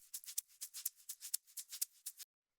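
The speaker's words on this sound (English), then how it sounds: "Next thing that we have here is the shaker loop" A shaker percussion loop for a minimal dub house track plays alone, a steady run of bright, crisp shakes in an even rhythm for about two seconds before stopping abruptly.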